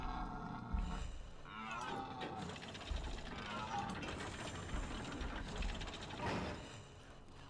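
Grunting of a pig or boar in a Thief fan mission, a string of low guttural snorts and growls that come and go over several seconds against faint game ambience.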